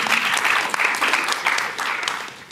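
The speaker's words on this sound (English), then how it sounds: "round of applause" A room full of people at a startup pitch event breaks into steady, fairly loud applause, dense clapping that continues evenly for a couple of seconds.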